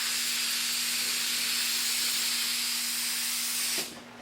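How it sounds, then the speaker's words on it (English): Spray lacquer is applied to wood sanded to 220 grit, giving a steady, close hiss with a faint tonal hum that stops abruptly near the end. "I'm just going to hit them with some spray lacquer."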